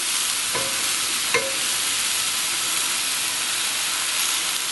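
A pot of Mexican-style pork chili with red beans being stirred, giving a steady broad sizzle and hiss with two brief clinks of the spoon early on, close and continuous, with no talking.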